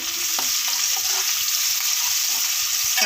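Curry leaves and tomatoes fry in a pan with a loud, steady sizzle and some stirring, heard up close with no talking.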